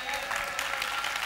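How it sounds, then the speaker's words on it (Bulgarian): A church congregation breaks into warm applause and cheering after a sermon, a dense, steady patter of many hands filling the room. "A generous crowd responds to great preaching with cheers."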